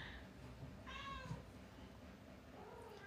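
A female cat meows while searching for her kittens: one clear, wavering meow near the middle and a fainter one toward the end, quiet against a low background hum.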